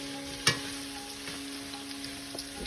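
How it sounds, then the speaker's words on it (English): Garlic, onions and spring onions fry in a pot for a one-pot orange chicken, giving a soft, steady sizzle with a sharp utensil clink early on and faint stirring scrapes afterward. "we put in our onions and the spring onions"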